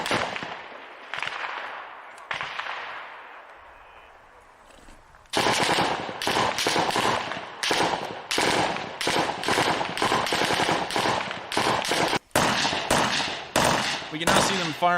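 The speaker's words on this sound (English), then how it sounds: "We can now see them firing into a house." Soldiers fire rifles into a house in wartime combat: after a quieter opening of scattered shots, a long stretch of rapid, loud bursts of gunfire rattles out in quick succession with brief pauses between volleys.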